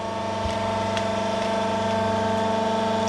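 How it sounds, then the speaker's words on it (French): An electric motor driving a hydraulic pump starts up and settles into a steady hum with strong tonal whine and harmonics, close and continuous with no talk. "On appuie sur le disjoncteur pour démarrer le moteur électrique et donc la pompe."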